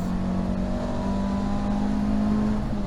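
Race car at Rockingham during a TARC Tricolore race, engine held at high, steady revs with a strong buzzing tone, close and loud with no talk.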